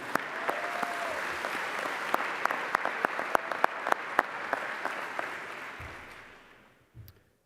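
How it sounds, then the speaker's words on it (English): A banquet audience claps for the hotel staff at an awards dinner, a dense wash of applause with sharp individual claps standing out, fading away toward the end before a couple of soft thumps. "let's also have a round of applause for the hotel staff"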